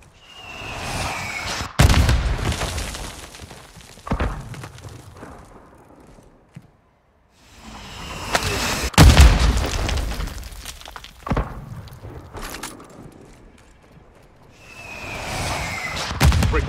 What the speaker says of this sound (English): Breaker 1, mortars incoming from the north. Mortar incoming from the south.